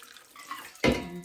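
Tap water running into a sink to rinse homemade butter, a brief quiet trickle that swells into a fuller, louder gush near the end.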